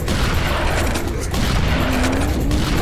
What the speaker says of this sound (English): Somebody's throwing rockets.